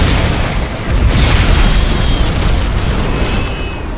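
A simulated enemy ship being destroyed in a space battle: a loud, sustained explosive roar with a deep rumbling body and hissing debris, swelling after a second and holding steady before easing off.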